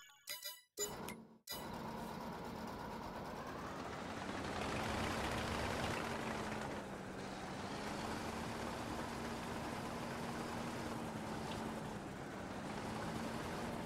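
Tractor engine in Farming Simulator 22 drones steadily at close range with a low, even hum, after a few brief clunks at the start, running alone without talk.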